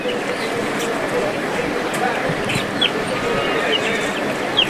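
Chickens, local ducks and Egyptian farm hens are for sale at a busy old village market in Ghior, Manikganj. A few short, faint clucks rise above a constant crowd murmur and nearby chatter.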